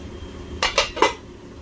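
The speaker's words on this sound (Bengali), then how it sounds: "এবার ঢাকাটা দিয়ে দেবো" A metal lid goes onto a pot of cooking mutton in a home kitchen, three quick clanks one after another, close and sharp, with no talk around them.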